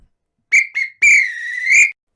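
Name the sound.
referee whistle for full time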